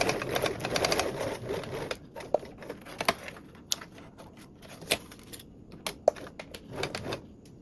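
A domestic sewing machine stitches a 3/8-inch seam along the short edges of a duffle bag strap pad, running in uneven bursts with pauses and clicks between runs, close and moderately loud.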